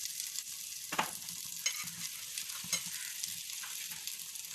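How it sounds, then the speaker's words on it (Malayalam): A teaspoon of butter melts and sizzles in a frying pan for chicken egg fried rice, a steady close crackle with a few sharp stirring clinks against the pan, no talking. "നമുക്ക് ആ ബട്ടർ ഒന്ന് മെൽറ്റ് ചെയ്ത് കൊടുക്കാം"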